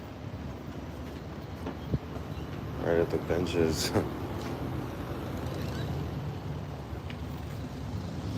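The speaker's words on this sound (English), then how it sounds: "This guy's pumping his exhaust over here though." A vehicle's engine exhaust runs close by outside a quiet laundromat, a steady low rumble throughout while someone speaks briefly over it.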